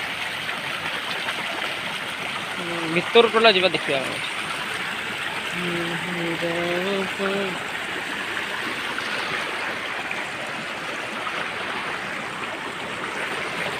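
A small waterfall pours into a stream running through a field, a steady broadband rush of water throughout, with brief nearby voices talking over it early on.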